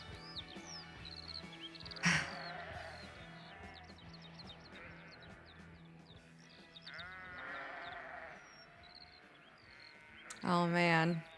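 Sheep bleat repeatedly within a rock track, sharp loud cries near the start and again near the end rising over a layered musical backdrop with some voices present.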